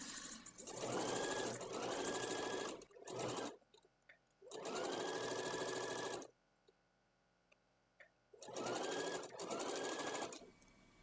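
Sewing machine stitching a one-centimeter lining seam on a flower girl dress bodice, running in three long steady bursts with short pauses between, close and loud.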